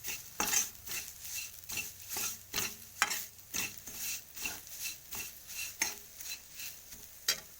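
Drumstick leaves frying with turmeric in a pan, stirred by a spoon in regular scraping strokes about once a second over a steady sizzle, close and clear with no talking.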